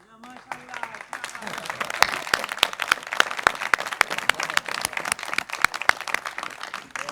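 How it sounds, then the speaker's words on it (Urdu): An audience claps at a mushaira, with dense applause building quickly and holding steady for several seconds, many hands close by, and a voice briefly heard over it at the start. "میں چاہوں گا کہ وہ کھڑا ہو اور ہم سب اس کے لیے تالیاں بجائیں."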